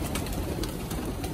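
A flock of about a hundred pigeons in a Karachi loft coos in a dense, continuous murmur, close and steady throughout.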